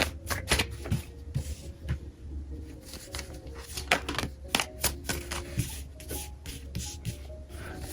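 Tarot cards are shuffled and drawn by hand, producing a quick run of close, crisp paper flicks and soft slaps with irregular rhythm and no talking.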